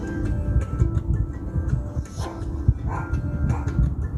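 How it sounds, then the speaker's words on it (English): Several dogs bark at a middle distance over a steady low hum, short yips and woofs scattered through the stretch with no talking. "Lots of dogs today."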